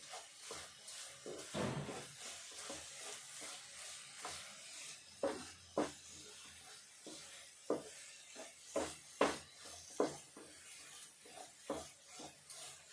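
Fresh coconut filling with crushed cardamom is stirred in a pan, giving quiet, irregular scrapes and soft taps of a spoon at close range, with a faint sizzle between strokes and no speech.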